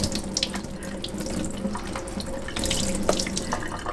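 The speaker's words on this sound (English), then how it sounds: "rinse off this cabbage with this filtered water" Filtered water runs from a tap over a head of cabbage being rinsed in a kitchen sink, a steady close splashing stream with small spatters and no talk.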